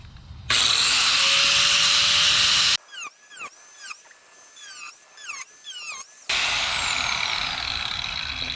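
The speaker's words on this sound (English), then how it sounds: "Got our die grinder with a little, probably too thick of a cutoff wheel on it," A die grinder fitted with a thick cutoff wheel bites into thick rusty sheet metal on a Pontiac 6000, producing two long, loud, harsh whining bursts separated by a stretch of short, stuttering squeals as the wheel catches and releases.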